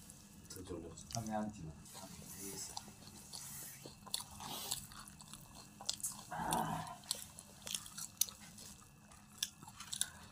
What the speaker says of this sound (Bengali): আমি কিন্তু মুড়ি দিয়ে খাচ্ছি ইচ্ছে করে